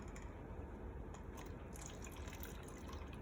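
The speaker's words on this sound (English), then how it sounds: "you just wanna fill up the cup about midway" Water pours into a cup already holding a few drops of red food coloring for rainbow lemonade, a faint steady trickle and fill under a hissy background, without any speech.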